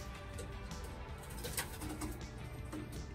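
Pigeons in a breeding loft holding hens and young birds, giving soft low coos repeatedly under a steady hum of background noise, faint and slightly distant.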